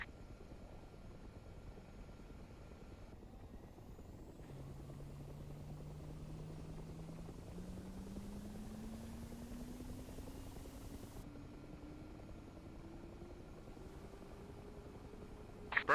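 Simulated Mi-8 helicopter auxiliary power unit spooling up in DCS, a steady broadband whine and rush with a tone that rises slowly in pitch over many seconds, continuous and fairly loud, with a brief click near the end.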